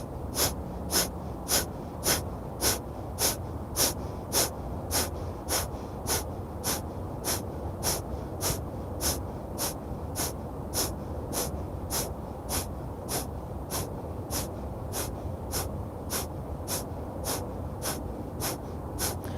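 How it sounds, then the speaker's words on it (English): Kapalabhati yoga breathing, a long run of sharp forceful nasal exhalations at an even, brisk rhythm, close and fairly soft, with passive inhales between. "We'll do one more round of Kapalabhati"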